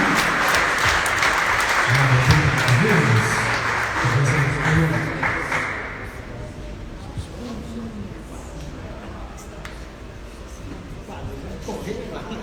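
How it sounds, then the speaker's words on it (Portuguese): Church congregation applauding the Lord for their pastor at an evangelical service, a dense wash of clapping for about six seconds under singing or voices, then fading into a quieter room with scattered sounds. "Pode aplaudir o Senhor pelo nosso pastor"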